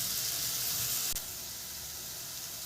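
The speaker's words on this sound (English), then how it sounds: "So the onions are still cooking" Onions frying in a pan on a medium flame for a beans curry give a steady, soft sizzling hiss that runs throughout, with a brief click partway through and the sizzle slightly quieter afterward.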